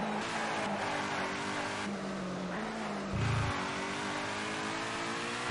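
A Jaguar XJ220 in TOCA 2 Touring Cars runs at a sustained, droning engine note with slight pitch shifts and a brief deeper surge, staying mid-level throughout.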